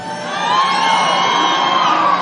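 A large crowd at a Donald Trump rally in South Bend, Indiana cheers and whoops continuously, a dense roar of many voices filling a big room, loud and sustained throughout.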